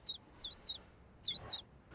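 Baby birds chirp hungrily in a video game, five high, bright tweets in an uneven rhythm, close and clear over a faint low background hum.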